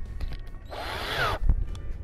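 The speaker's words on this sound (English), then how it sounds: "drill the other four holes" A power drill bores a hole for a hinge on a wooden top bar swarm box, a close, whirring burst of about half a second that rises and falls, with bumps and knocks of handling around it.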